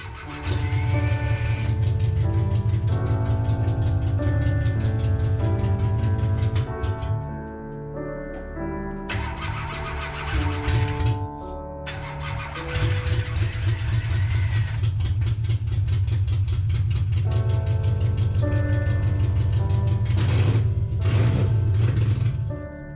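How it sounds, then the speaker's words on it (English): A classic Mini engine idles with a steady, low rumbling drone that cuts out briefly a couple of times, then starts up and runs on. "we had the engine running periodically, very briefly"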